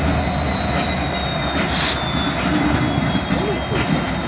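A Norfolk Southern track geometry train reverses slowly into a rail yard, with a steady rumble of rolling wagons, clicking wheels over joints and a brief high wheel squeal, heard at moderate distance.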